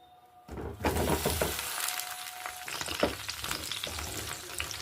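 Slit eggplants drop into hot oil in a pan, setting off a sudden loud burst of sizzling frying that continues steadily up close, with a few clinks as they settle.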